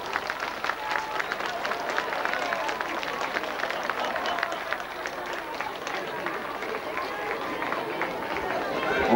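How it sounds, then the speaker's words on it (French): A crowd in a town square claps steadily and continuously after a balloon release, a dense patter of many hands holding at an even level throughout with a murmur of voices underneath. "On peut applaudir."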